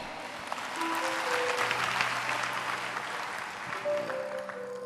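A church congregation applauds steadily, a dense even patter of many hands sustained throughout, with faint tones of music lingering underneath.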